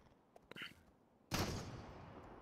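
Gunfire in a shooter game: a couple of faint snaps, then one loud close blast or burst that rings out and fades slowly.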